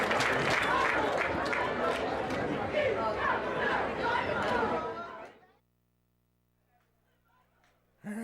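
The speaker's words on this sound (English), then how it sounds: "Let's give them all a round of applause." A crowd applauds and cheers at a college football game between Lane and Central State, loud and sustained for about five seconds before cutting to near silence.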